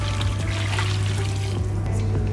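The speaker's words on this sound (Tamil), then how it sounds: "இப்போ என்ன பண்ணலாம், வெதுன்னு இருக்க தண்ணியை கொஞ்சம் ஊற்றிக்கலாம்." Warm water is poured over washed goat trotters in a continuous, close splashing stream that runs without a break.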